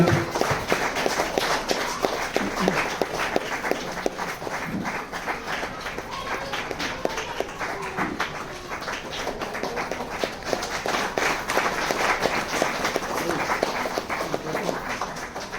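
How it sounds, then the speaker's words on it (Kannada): An audience at a public event claps, a dense steady patter of many hands that carries on throughout at moderate loudness with no voices over it. "ಎಲ್ಲರೂ ಜೋರಾದ ಚಪ್ಪಾಳೆ ಮೂಲಕ ಈ ಕಾರ್ಯಕ್ರಮಕ್ಕೆ ಯಶಸ್ವಿಗೊಳಿಸಬೇಕಂತ"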